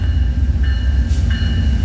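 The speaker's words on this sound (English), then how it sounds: "And at the front, we have Amtrak 142-137 leading the train" Amtrak passenger train with locomotive 142-137 leading and a baggage car up front, passing at Fullerton: a steady, loud low rumble of rolling cars with faint high tonal squeals, continuous throughout.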